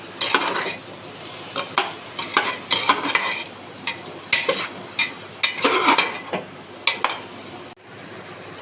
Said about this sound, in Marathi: त्यानंतर बीट टाकूया वरून. सगळं व्यवस्थित परतून घेऊ.